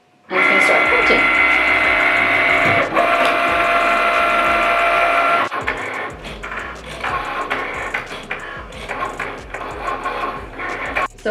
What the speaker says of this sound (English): the Cricut button is blinking, so I'm gonna click that. And it's gonna start printing.